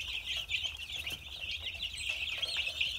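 One-week-old chicks peep continuously in a brooder, a dense high-pitched chorus of overlapping chirps from many birds close by, steady and fairly quiet, with no talking.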